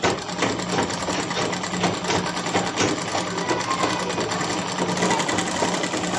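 A sewing machine runs steadily, stitching the upper seam on a child's frock with a continuous whirring hum throughout, no voices over it.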